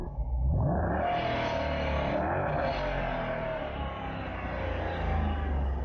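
A 2015 Dodge Challenger R/T with a Hemi V8 roars loudly and continuously, a deep rumbling engine note that holds steady through the clip without any pause.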